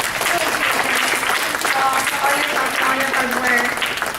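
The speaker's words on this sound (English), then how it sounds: "If everybody give a round of applause" Loud, dense audience applause fills a gala awards program, a continuous roar of many hands with a voice speaking briefly over it.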